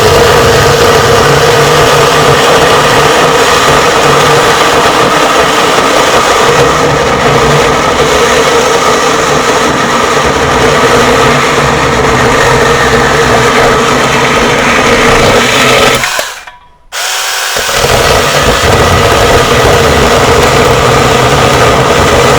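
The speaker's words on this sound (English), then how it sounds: "Not going to do something like a treated 4x4, but let's do it anyways" A loud, continuous motor drone of an Alloyman mini 6-inch chainsaw grinding through a treated 4x4, briefly cutting out near the end before roaring back.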